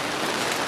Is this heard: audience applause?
no